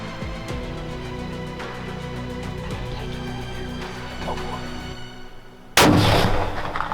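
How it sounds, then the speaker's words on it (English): A muzzleloader rifle fires once at a whitetail buck during an Illinois hunt on a cold morning, a single sharp, loud blast that cuts through quiet surroundings and trails off in a long echo. "Good shot, Denise."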